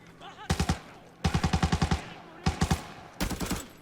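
Enemy automatic gunfire in the Arena Breakout shooter game comes in four sharp bursts of rapid shots, loud and close, separated by brief pauses.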